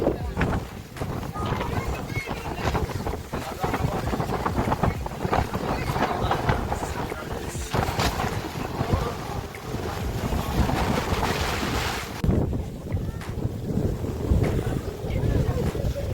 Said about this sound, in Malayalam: വേറെ നല്ല കാറ്റ്